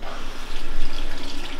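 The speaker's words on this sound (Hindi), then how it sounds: "small flush" A smart toilet running a small flush, a brief rush of swirling water close by, rising quickly and holding steady without any talk.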